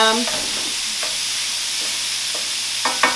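Meat sizzles in a pan with a steady hiss, broken by a few scraping stirs and light clinks of a utensil.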